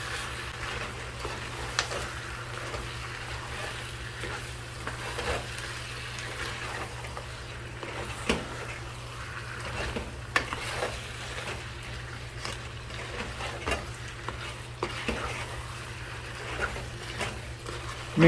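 Chicken curry stirred in a pan, with a continuous sizzling hiss, a steady low hum and repeated faint scraping and clicking from the stirring, with no talking.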